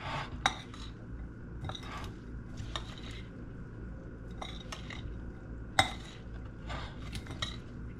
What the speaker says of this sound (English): I also have here 2 tablespoons of vinegar. And we're going to mix this up well.